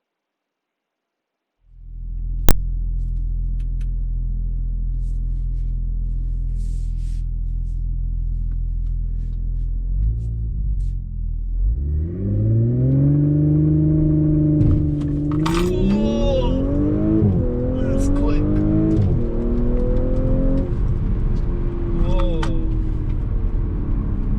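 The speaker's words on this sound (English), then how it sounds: "foot on the brake, floor the throttle, and release the brake when you're ready" A 2020 Audi S5 Sportback Quattro idles in a low, steady rumble. The revs climb for launch control, then it surges away through quick rising gear sweeps, loud and close from inside the car.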